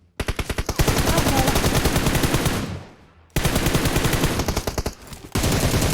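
Rapid automatic gunfire in the mobile shooter game PUBG Mobile, long loud bursts of fast, evenly spaced shots broken by a short pause, then more sustained firing up close.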